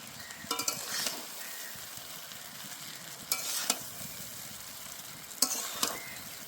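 Cooked rice tipped back into a hot pan and fried for fried rice, with a steady sizzle throughout and a few sharp scraping stirs of a spatula against the pan, close and clear.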